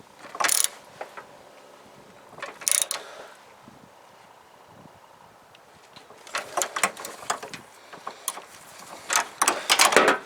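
A wrench tightens the steering coupler (rag joint) bolt on a 1993 Chevy K1500 pickup, giving a few sharp metallic clicks and ratchet bursts, scattered early and then clustered more densely toward the end, close and moderately loud with no talk.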